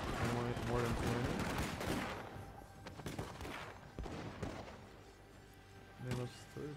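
Arquebus volleys crackle in Shogun 2, with repeated bursts of massed musket fire and scattered single shots rising and falling over a few seconds, while someone talks over the battle.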